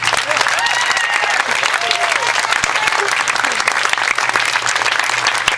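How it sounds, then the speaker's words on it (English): Sustained applause from a graduation audience, dense and steady for several seconds, with a faint voice or two rising above the crowd. "I'd like to start off by giving a round of applause to Megan, Lourdes, and Stephen"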